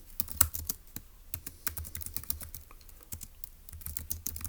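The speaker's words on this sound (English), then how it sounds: "let's go ahead and type that up in B" Rapid typing on a computer keyboard while solving a Turing Machine logic puzzle, a steady stream of close, crisp key clicks with irregular rhythm and no voices.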